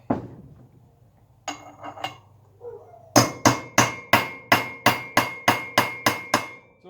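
Hammer tapping a front wheel bearing into place on a GasGas motorcycle: a few scattered metallic knocks, then a quick run of about eleven sharp, evenly spaced ringing taps, close and loud.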